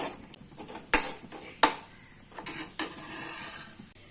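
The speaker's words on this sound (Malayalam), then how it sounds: "നമുക്കിത് നന്നായിട്ട് ഇളക്കി കൊടുക്കാം" Palappam batter stirred in a bowl, with a spoon clinking and scraping against the sides in several separate taps and quiet scrapes, close and fairly soft.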